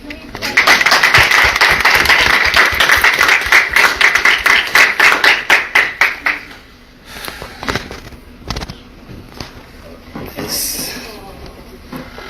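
A crowd claps loudly and steadily for several seconds for International Women of Courage awardees in Washington, the applause thinning out and fading into scattered claps and murmurs.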